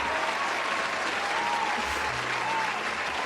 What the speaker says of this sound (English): our side of the crowd excitedly clapped and cheered